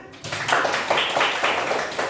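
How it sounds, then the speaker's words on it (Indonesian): A classroom audience claps briefly after a student presentation, a short ragged round of hand claps in uneven bursts at moderate volume. "Tepuk tangan"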